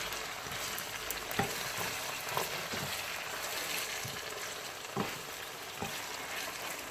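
Sliced onions frying in a pan for an okra and onion curry, a steady close sizzle with occasional stirring scrapes and taps, no talking.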